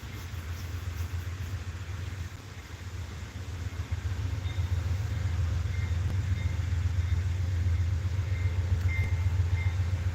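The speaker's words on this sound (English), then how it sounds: "just a silver train going past, too" A silver, bullet-shaped train rumbles past as a steady low-frequency roar that holds fairly constant and swells slightly midway, with no talk over it.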